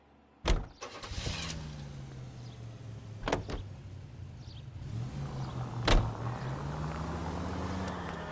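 A car is driven in the L.A. Noire video game, a low engine hum that rises and falls, broken by a few sharp clunks and a door-like thud near the start.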